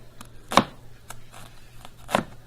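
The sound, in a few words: knife cutting onion on a board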